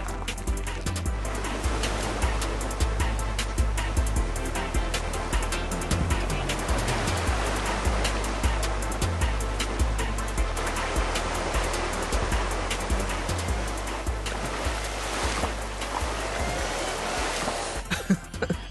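Rushing river current washing around a Hyundai Creta SUV as it wades across the river, a steady loud churning of water mixed with engine rumble throughout.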